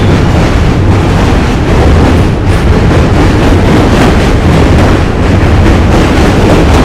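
Subway train thundering across the Manhattan Bridge between Brooklyn and Manhattan, a loud continuous roar of wheels and rattling cars that fills the whole stretch with no break.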